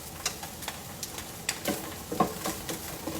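A metal spatula scrapes and stirs caramelizing food in a hot pan, with soft sizzling beneath a series of distinct scraping strokes, near and moderately quiet.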